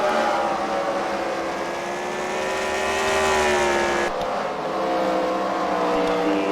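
Race cars in a CWRL Fight Night event at The Freedom Factory circle the track, engines droning continuously and steadily loud with a rising and falling pitch as cars pass.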